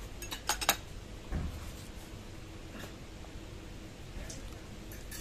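Cutlery clinking against a plate while someone eats meat pierogi outdoors, a few sharp metallic clinks near the start, then quieter scrapes over steady wind noise.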